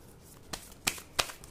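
Tarot cards are handled and laid out, giving a few soft, crisp slaps and flicks spaced roughly evenly over a quiet background.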